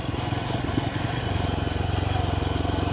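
A Yezdi motorcycle rides along a forest road, its engine a steady, close, even drone with a rapid regular pulse and no voices.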